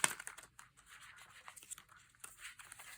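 A new Destiny Deck of indie playing cards with a rose petal finish is shuffled, giving soft, papery riffling and rubbing bursts that are close and quiet, with a sharper flick at the start.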